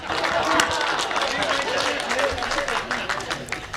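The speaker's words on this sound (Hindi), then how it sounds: "अच्छा तालियां हो जाए भाई" Audience at a Hindi poetry recital breaking into dense applause and cheering, a thick continuous crowd roar with voices mixed in throughout.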